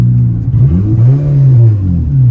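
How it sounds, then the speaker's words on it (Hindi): Car exhaust revving loud and close after a makeshift catalytic converter fix, deep bassy engine note rising and falling in repeated swells with no voices. "बिल्कुल अपनी आवाज में आ गया एग्जॉस्ट"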